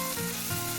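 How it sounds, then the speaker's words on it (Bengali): Chopped onions frying in mustard oil with cumin make a dense, continuous sizzle, close and even, with no talking. "কেটে রাখা পেঁয়াজের টুকরোগুলো দিয়ে দিলাম। এগুলো হালকাভাবে একটু আমি ভেজে"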